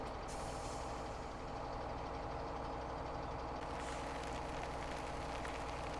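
An 820-horsepower semi truck engine in the Farming Simulator 17 video game, hauling a load of grain, gives a steady, dense diesel drone that stays loud and constant throughout, with a brief hiss partway through.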